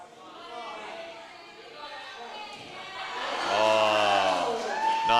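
Spectators at a climbing final cheer and call out while a climber works through a roof section. Steady crowd noise with mixed voices swells louder toward the end, and a commentator talks over it.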